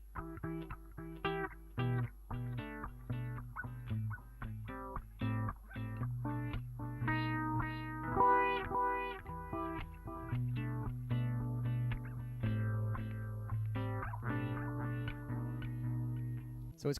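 Acoustic guitar processed by a BOSS RC-505 with a roll delay on the filter, a rhythmic strummed and picked pattern whose notes repeat and smear, played steadily for a long stretch, close and without voices.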